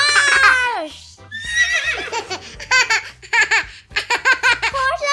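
A cartoon horse gives a high, wavering whinny that falls in pitch, followed by bright, bouncy children's song music from an ABC phonics learning song.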